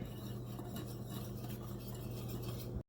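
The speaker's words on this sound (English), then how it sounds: "I'm going to whisk this together." Salt, black pepper and onion powder being whisked together in a bowl, a continuous close rhythmic scraping and clinking that stops abruptly at the end.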